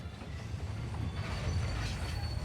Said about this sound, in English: you just have to wait for the train to come up and ram again